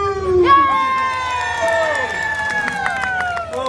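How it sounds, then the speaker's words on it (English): Audience cheering and applauding in a festive crowd, with excited voices and shouts at the start and sustained noisy cheer under harmonic vocal whoops. "cut the pity applause and holiday cheer"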